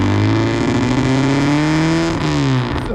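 A 68-horsepower Mazda Miata race car engine at a track day, a loud close buzzing drone holding steady with a slight pitch dip and recovery near the end.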